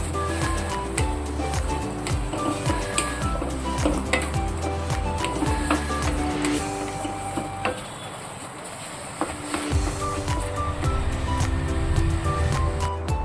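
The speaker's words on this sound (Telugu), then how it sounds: "చూడండి ఎంత బాగా చక్కగా వేగిపోయింది పచ్చడి" Coriander pickle frying in a pan, a moist sizzle with occasional stirring and scraping of a spoon against the pan, close by, easing briefly midway before picking up again.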